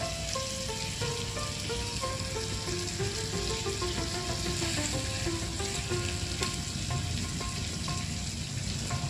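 Chicken thighs and legs fry on a hot tawa pan, giving a steady, close, dense sizzle with crackling and spattering that holds evenly throughout, with no voices over it.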